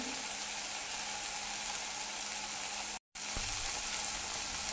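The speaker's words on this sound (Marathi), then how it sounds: "2 मिनिटं आपण असंच परतवून घेणार आहे." Mutton trotter curry masala sautéing in hot oil, a steady soft sizzle running throughout with a brief dropout partway.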